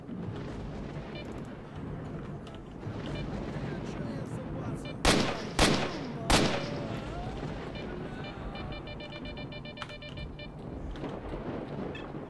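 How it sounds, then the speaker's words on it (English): Three loud, sharp gunshots ring out in quick succession amid game ambience and music in STALKER: Shadow of Chernobyl, with a voice talking before and after. "Hear these gunshots going off"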